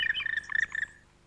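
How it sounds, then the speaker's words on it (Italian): A black woodpecker, Europe's largest woodpecker, active in a European forest gives a rapid run of loud, ringing calls lasting about a second, clear and fairly close, before fading into quiet woodland ambience. "Un picchio nero, il più grande picchio europeo, è in piena attività."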